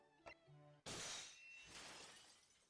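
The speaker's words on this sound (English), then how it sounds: "To accompany the visual effect of the shattering glass." Shattering-glass sound effect from the video game The Great Ace Attorney Chronicles: a short tone gives way to a sudden bright crash of breaking glass that rings and decays, quiet overall and with no talk.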